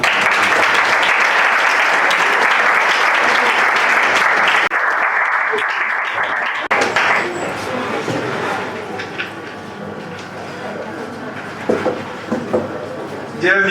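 Dense, sustained applause from an audience at a national debate championship final in Togo fills the hall, loud and even for several seconds before thinning into scattered claps and room noise, with a voice briefly audible.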